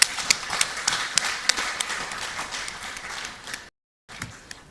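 A symposium audience claps, a mix of scattered sharp claps and a rhythmic group beat that continues for a few seconds, breaks off briefly, then resumes.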